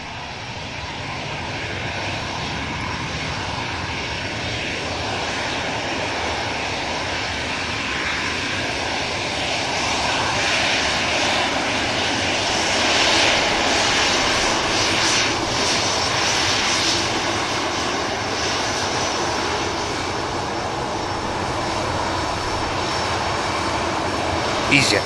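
An EasyJet jet airliner takes off from an airport runway with a continuous, loud engine roar that swells slightly and holds steady, while a voice talks over it.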